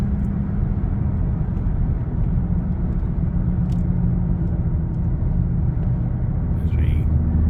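Ford Raptor truck cruising on back roads, heard from inside as a loud, constant low engine and road rumble that holds steady throughout, with a faint brief chirp near the end.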